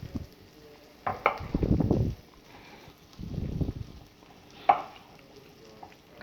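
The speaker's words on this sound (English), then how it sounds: "So that means that everything's sauteing." Food sautéing in a pan while being stirred: two bursts of scraping and sizzling as the spatula moves the contents, separated by quieter gaps, with a light clink near the end.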